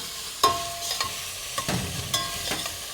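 Sliced onions with a pinch of salt sauté in a pan, a bright continuous sizzle punctuated by repeated spatula scrapes and taps against the metal, close and fairly loud, with no talking.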